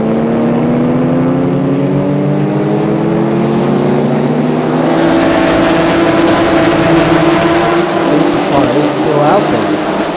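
Race car engines at Chang International Circuit during a Thailand Super Series round, a loud, steady drone of several motors with rising and falling pitch as they build revs, filling the whole stretch.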